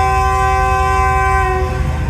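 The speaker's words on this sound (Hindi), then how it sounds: "ऑफिशियल डिपार्चर हॉर्न हो चुका है रवानगी के लिए।" A train's official departure horn sounds on a Green Line journey from Khanewal, one long steady tonal blast held close and loud for the whole moment over the low rumble of the waiting train.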